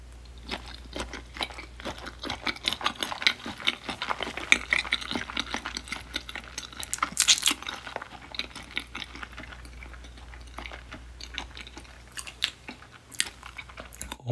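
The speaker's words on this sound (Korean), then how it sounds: "무슨 맛인지 그냥 먹어볼게요." Up close, someone chews raw grey mullet sashimi, with soft, wet mouth sounds and faint crunches coming in an uneven rhythm over a low background hum.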